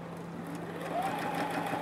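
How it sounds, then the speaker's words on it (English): A Juki F600 sewing machine stitches fabric with a soft, steady whirring hum that picks up slightly in speed partway through, quiet and close. "Start sewing."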